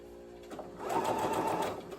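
A sewing machine stitches a shirt in one fast, whirring run that starts about halfway through, buzzing steadily at moderate volume before tapering off near the end.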